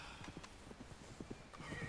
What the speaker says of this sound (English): Bring my horse.